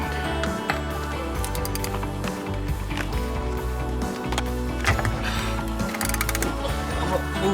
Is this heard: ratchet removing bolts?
yes